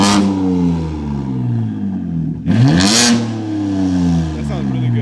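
A BMW G80 M3 with its S58 engine and an ARM single mid-pipe exhaust holds a loud, throaty rev, dips, then blips sharply upward before settling back into a steady drone, close by.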